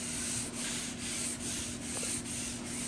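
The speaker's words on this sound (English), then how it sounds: "And then I'm gonna wet sand that." Steady rhythmic wet sanding of filler primer on a first-generation Dodge, a continuous close rasping rub with regular back-and-forth strokes about every half second and no talking.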